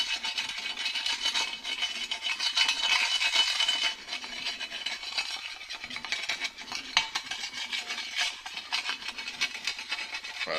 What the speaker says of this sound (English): We can just take a flat blade screwdriver, and you can just free up this grease and liquefy it some more.